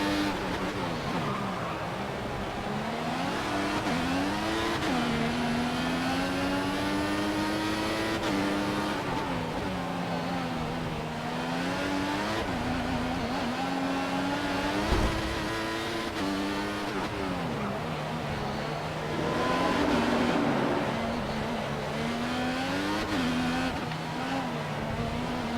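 Formula 1 car engine in the F1 2014 racing game at the Singapore Grand Prix, a loud continuous high-pitched whine that rises and drops through repeated gear shifts and corners, with no talk.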